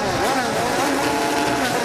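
An IndyCar race car engine at the Indianapolis 500 Carburetion Day revs loudly and steadily, its pitch wavering up and down, with a commentator's voice faintly underneath.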